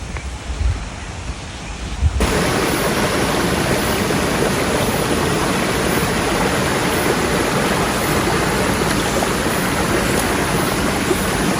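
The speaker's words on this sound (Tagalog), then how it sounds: "yung lagaslas ng tubig, nakaka-relax na" Steady, loud rush of a flowing river in Osaka Park, a dense continuous hiss that fills the scene after a brief quieter start.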